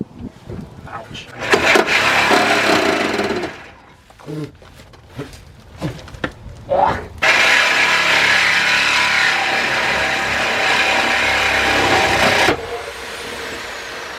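A power saw cuts near the exhaust heat shield of a GMC vehicle, giving loud, harsh grinding bursts that stop and restart, then a long sustained cut, up close with someone talking between passes.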